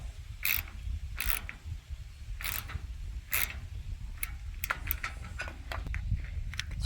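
Ratchet clicking rapidly while a wrench tightens two locking nuts on a Napoleon Freestyle 365 barbecue, with repeated sharp ratcheting bursts and small metallic clanks close by.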